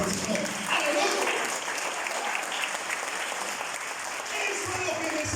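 A church congregation breaks into sustained, enthusiastic applause, dense and continuous, with a preacher's voice carrying over the clapping.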